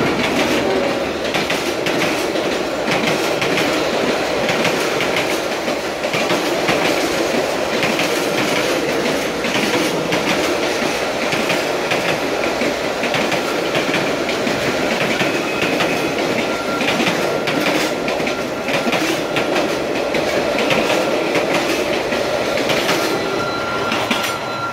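A train passes a railway crossing in Saigon in the evening, giving a loud, continuous rumble with rhythmic clickety-clack of wheels on rails throughout and no voices.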